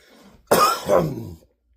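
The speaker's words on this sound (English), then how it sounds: "still kind of have the cough from it" A single harsh cough bursts out after a brief quiet moment, followed by a second rough hacking push, close and loud, then silence.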